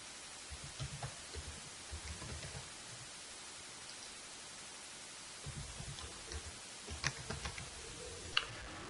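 Someone types a password on a computer keyboard while installing an Exchange 2013 server on Windows 2012, producing quiet, irregular bursts of key taps separated by short pauses.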